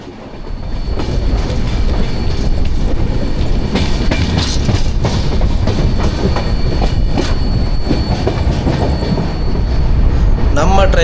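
Ernakulam to KSR Bengaluru passenger train, number 16525, rolling on rails: a steady, loud rumble of wheels and carriage noise, with rhythmic clatter and faint squeals running throughout.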